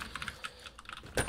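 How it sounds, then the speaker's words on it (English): A computer keyboard is typed on in quick, scattered clicks, soft and close, ending in one sharper clack, with no voices. "Oh yeah, that keyboard. Keyboard ASMR for you guys."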